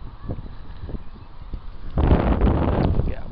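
Wind buffets the microphone in low, rumbling gusts that swell sharply partway through, loud and close.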